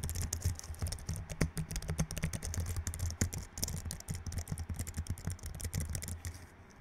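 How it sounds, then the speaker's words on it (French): Rapid typing on a Logitech K470 low-profile keyboard: a close, steady stream of light, soft clicks and taps in an irregular rhythm, fairly quiet and heard alone. "Au niveau du son des touches, je sais pas ce que ça va donner au micro"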